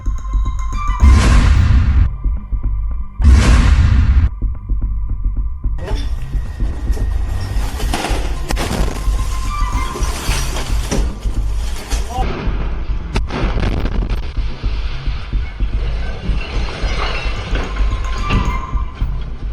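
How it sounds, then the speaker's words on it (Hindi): Two heavy booming blasts in quick succession as a shell is fired at a tank and explodes, followed by sustained rumbling and crackling like continued firing or debris, loud and close. "टैंकों पर एक गोला फायर कर देता है जिसमें जबरदस्त धमाका होता है"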